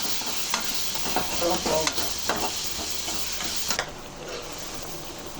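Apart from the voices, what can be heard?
tempering cumin and garlic in oil for aviyal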